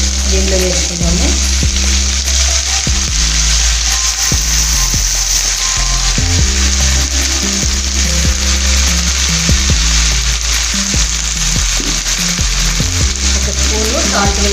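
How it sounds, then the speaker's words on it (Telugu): Brinjal pieces frying in a pan give off a loud, steady sizzle, with scattered stirring clinks and scrapes throughout. "ముందుగా కట్ చేసి పెట్టుకున్నాను వంకాయ ముక్కలు దీనిలో వేసుకున్నాము"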